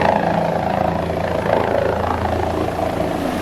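A helicopter is in flight over New York City, heard from inside the cabin as a loud, constant rotor and engine roar with a steady thudding pulse and no talking.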